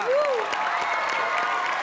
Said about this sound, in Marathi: त्याबद्दल जोरदार टाळ्या वाजवा.